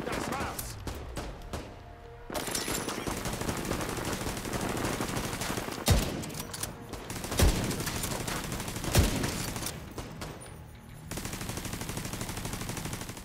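Automatic turret in the video game The Division 2 firing on enemies: sustained rattling bursts of gunfire over a dense layer of game noise, with a few louder cracks standing out along the way.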